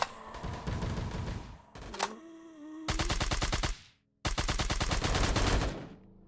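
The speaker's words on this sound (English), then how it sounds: "Who shot the gun?" Rapid bursts of automatic gunfire in the VRChat virtual world, two long loud strings of shots separated by a brief silence, preceded by a noisy chaotic stretch with an electronic tone.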